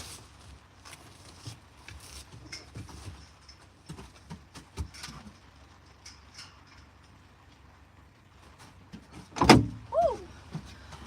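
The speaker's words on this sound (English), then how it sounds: "I went to pull the door open and my hand slipped because it's wet" Rain patters and ticks around a parked car for several seconds before a car door is pulled open in the wet with a sharp close clunk and a brief rubbery squeak, followed by some rustling.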